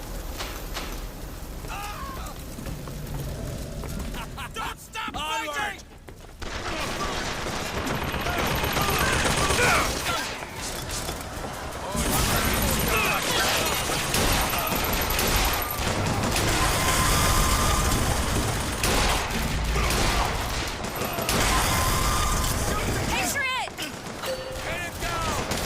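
Gunfire in the shooter Bioshock Infinite, with dense rapid bursts and sustained rattling volleys in a loud, chaotic firefight, ending in a few softer clanks, and a voice talking over the action.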